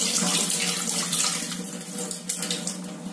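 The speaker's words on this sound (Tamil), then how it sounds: "ரெண்டு தடவை நல்லா இந்த மாதிரி பிசைஞ்சு கழுவிடுங்க." Broken wheat is rinsed and kneaded in a bowl under a running kitchen tap, giving a close, steady gush of water with soft splashing and no voices.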